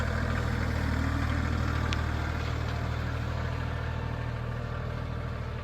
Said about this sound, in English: we did not waste no time putting this tractor to work